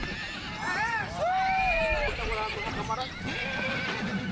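Horses on open ranch land in the Llanos, where zebu cattle and horses graze freely: several loud whinnies with falling and rising pitch, some hoof clip-clop, and a narrator talking over them.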